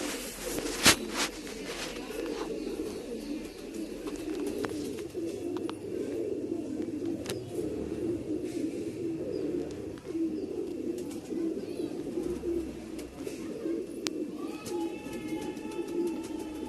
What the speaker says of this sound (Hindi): ये बिल्कुल नया ब्लड है और अभी नया जवान हुआ है ये कबूतर।